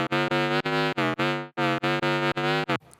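A Serum 2 synth bass patch for UK bass, a variant of a sine-based sound, plays alone as a loud, rich chopped line of about ten rhythmic sustained notes with short gaps, ending in a brief quiet tail.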